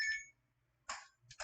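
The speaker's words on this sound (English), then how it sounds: "That's my alarm there." An alarm beeping in short electronic bursts, two or three quick pulses separated by near silence, clear and alone in a quiet room.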